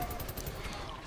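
Gunfire in the Wolfenstein: The New Order video game, a dense, steady burst of rapid shots running continuously through the moment with no pauses, loud and close in the game's mix.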